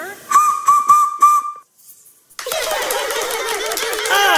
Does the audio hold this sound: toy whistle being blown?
yes